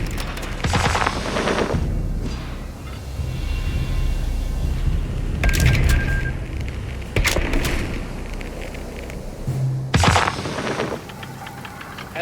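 Heavy machine gun fire in the video game Company of Heroes 3, with rapid, loud bursts of repeated shots that recur over dense battlefield noise and distant explosions, and no speech.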